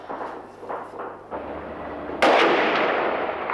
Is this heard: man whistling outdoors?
no